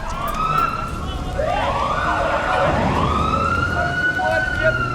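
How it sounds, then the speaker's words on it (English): Emergency sirens wail with rising and falling pitch, several overlapping, loud and sustained over a rumbling street background. "Not long after, sirens woke him up."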